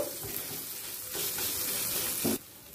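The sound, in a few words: potato and gourd curry being stir-fried in pan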